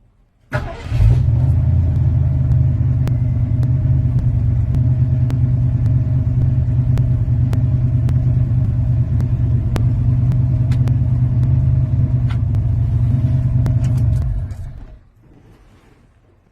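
Old OBS Ford truck engine started and left idling, a loud, steady close rumble after a quick start that holds evenly for about fourteen seconds before being shut off.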